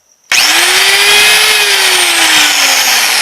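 A Makita 4100NH cutter motor starts up after an armature repair and runs steadily at a loud high-pitched whine, its pitch rising slightly and then easing down over a few seconds.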